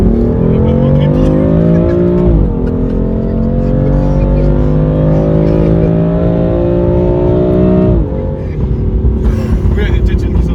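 A BMW M4 with a Milltek exhaust line revs hard and loud throughout, pitch climbing steadily, dropping briefly at a gear change and climbing again, then dropping once more near the end as the engine roars up through the range.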